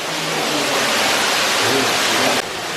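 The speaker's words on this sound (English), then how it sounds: "Walking alongside this waterfall here." Waterfall inside Marvel Cave, a loud, close, steady roar of pouring water that fills the whole clip before dropping slightly at the end.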